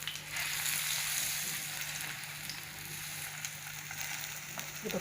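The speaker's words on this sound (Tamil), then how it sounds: "மீன் இப்படி நல்லா பொரிச்சு எடுத்துக்கலாம்." Tilapia frying on a tawa, a steady dense sizzle of hot oil filling the whole stretch at an even, moderate level with no voices.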